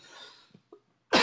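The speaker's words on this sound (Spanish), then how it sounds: "Me he levantado con la tos." A man lets out a brief cough, a couple of short throaty bursts over a faint background, followed by a sudden loud burst of noise at the end.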